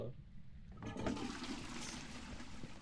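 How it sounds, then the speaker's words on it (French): A toilet flushes in the horror video game Phasmophobia, a sudden watery rush that keeps going under a quiet low background hum. "on a tiré la chasse"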